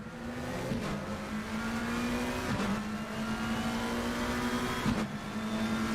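A Ferrari race car in a racing game at Imola holds a steady, droning engine note at constant speed, with three brief dips as it strikes curbs.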